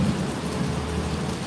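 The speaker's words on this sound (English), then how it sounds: "All right, it's raining." Rain falls steadily outdoors while a deep rumble of thunder rolls underneath, a brief continuous wash of noise with no voices.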